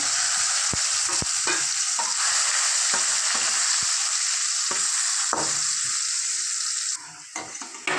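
Bitter gourd pieces, salted and turmeric-coated, fry in a pan with a steady close sizzle and frequent scraping stirs of a spatula, ending in a few quieter clinks.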